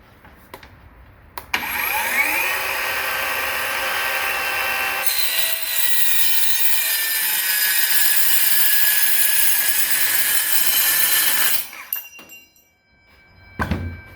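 A Bauer 20V cordless metal circular saw spins up and cuts steel tread plate, a loud sustained high-pitched screeching whine lasting about ten seconds before winding down and stopping.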